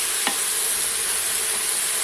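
Diced turkey sautés in a pan with onions and tomato for a curry. A steady sizzle hisses throughout, with a sharp scrape of stirring near the start and a fainter one later.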